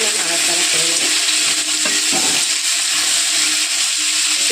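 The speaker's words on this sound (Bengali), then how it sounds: "দিয়ে আলুটা দিয়ে দেবো এগুলো নাড়াচাড়া করে নেব" Potatoes frying in a pan with onion greens and fish oil, stirred with a utensil: a loud, steady sizzle fills the clip, with scraping stirring strokes close up over it.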